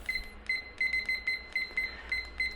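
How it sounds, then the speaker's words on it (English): Kitchen timer being set for scones, giving a series of short, evenly spaced electronic beeps, quiet and close, with a faint steady hum underneath and no talking. "Better put the timer on."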